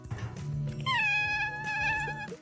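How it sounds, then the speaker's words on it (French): Sawyer the cat meows loudly and close in one drawn-out, wavering yowl that rises in pitch partway through, layered over the low, booming Netflix "ta-dum" jingle. "Et à chaque toudoum, Sawyer miaule."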